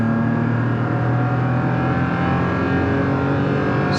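2022 Toyota Tacoma TRD Pro truck at full throttle during a 0 to 60 run, its engine giving a loud, strained, steady drone with layered harmonics, held continuously close up and slowly climbing in pitch.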